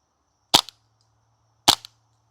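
Two sharp airsoft pistol shots fired on semi-auto at a target downrange, about a second apart, each a loud snappy crack with a short trailing click, near and alone with a faint hum between.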